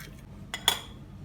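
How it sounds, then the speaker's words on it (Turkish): Two quick cracking taps of eggs against the rim of a bowl while making cake batter, a soft knock followed by a brighter clink, in a quiet kitchen. "3 yumurtamızı tek tek kırıyoruz"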